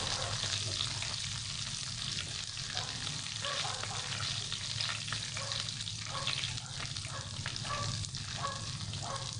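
Garlic frying in a pan until dark brown, a continuous close sizzle with stirring scrapes and bubbling crackle, steady throughout.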